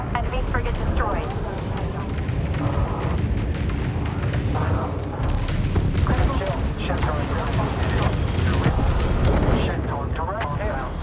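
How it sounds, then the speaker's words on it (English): Spaceship explosions boom and rumble as an enemy frigate is destroyed in the Homeworld 3 video game, a dense and continuous barrage of blasts under a radio-style voice reporting the kill. "Command, reporting enemy frigate destroyed. Critical hit. Enemy frigate destroyed."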